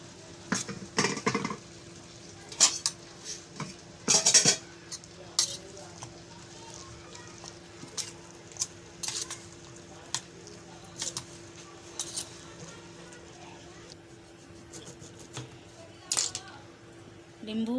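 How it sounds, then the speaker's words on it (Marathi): Sliced onion is mixed into a bhaji batter by hand or spoon, making intermittent wet squelching and clinks against a bowl, spaced out irregularly over a quiet background. "कांदा घालायचा ह्याच्यामध्ये मस्त आणि हे सगळं असं मिक्स करून घ्यायचं आहे"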